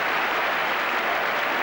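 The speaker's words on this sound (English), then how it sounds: "And just listen to the applause of the crowd," A football crowd at a 1985-86 Tottenham Hotspur versus Newcastle United match applauds Chris Waddle's run, a sustained wash of clapping at steady volume with no distinct voices.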